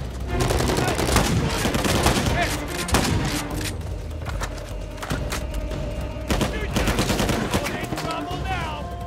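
Shotgun and other gunfire in Uncharted 4, heavy booming shots and rattling bursts mixed into a dense, loud firefight with explosions, while a voice talks over it.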